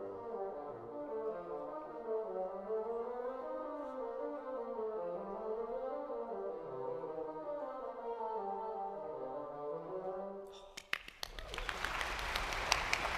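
Bassoons carry a smooth, slurred legato counter-melody, the low reedy lines gliding continuously for about ten seconds before cutting off into a burst of noisy clatter at the end.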